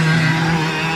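A race car on track entering a corner, its engine a loud, steady, close drone that holds a constant pitch through the brief moment.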